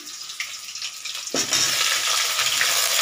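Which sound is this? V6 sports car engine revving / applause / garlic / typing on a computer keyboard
garlic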